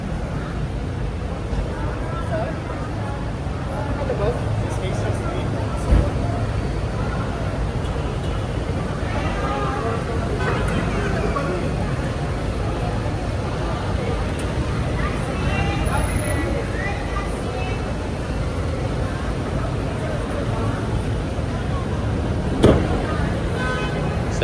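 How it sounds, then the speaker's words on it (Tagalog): Steady road traffic rumble during heavy congestion, with a continuous broadband drone, a couple of faint horn toots and occasional louder passing bursts, while people talk nearby. "Grabe yung traffic, no?"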